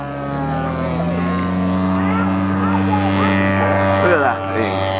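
Large Cessna-like model airplane at a miniature airshow revs up for takeoff, its propeller engine droning loud and steady with rising pitch, near and continuous over several seconds.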